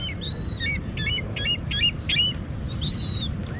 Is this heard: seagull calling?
yes